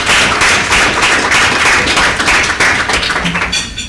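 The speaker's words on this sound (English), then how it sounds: "give them a round of applause for yourselves." Sustained round of applause from a graduation audience at a urology residency ceremony, dense, steady and loud clapping throughout with no pauses.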